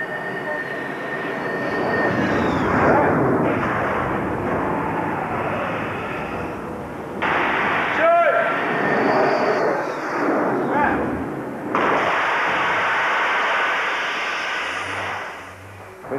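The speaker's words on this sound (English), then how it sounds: "It means the aircraft is actually coming over the ship and ready to engage the equipment." Loud jet aircraft noise on an aircraft carrier as a plane comes over the deck to land and catch the arresting gear, a sustained roaring rush with surging intensity and a sharp shift partway through.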